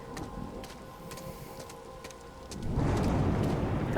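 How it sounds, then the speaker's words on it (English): Steady rain hisses in the horror-mystery game The Seance of Blake Manor, a soft, even wash that grows noticeably louder and denser near the end, with faint tonal hums beneath and no talk. "I'm wandering around in the rain because why not?"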